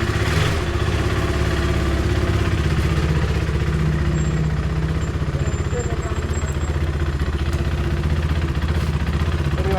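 Motorcycle engine running steadily at the start of a short ride, a loud continuous rumble with rapid firing pulses and slight revving, with a voice speaking briefly over it.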